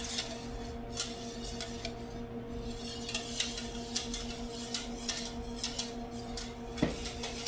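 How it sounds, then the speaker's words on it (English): A spoon scrapes and taps against a pot while coconut pie filling is stirred, giving soft irregular clinks over a steady low hum, with one sharper knock near the end. "So we're just gonna keep stirring."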